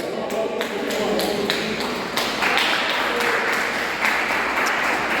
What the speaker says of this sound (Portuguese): Dá vontade de dar um aplauso para Jesus.